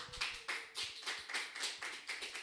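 Audience applause at a worship leader academy session, thanking a pastor after her talk: a steady burst of many hands clapping, fairly close and moderately loud, with no voices over it.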